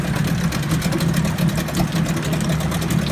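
A Mariner 8 HP outboard motor built by Yamaha idles low, producing a steady, close, low-pitched putter with an even rhythm throughout.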